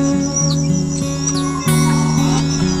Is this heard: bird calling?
yes